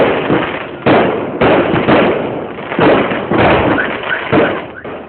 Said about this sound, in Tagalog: Mas mahimong mabulukon ang pagsugat sa Chinese New Year sa maong templo dihang gipahigayon ang fireworks